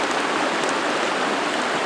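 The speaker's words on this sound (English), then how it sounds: "Here along Santa Barbara Creek in the Carson National Forest." Santa Barbara Creek in Carson National Forest rushes past nearby as a loud, constant wash of flowing water, with no voices.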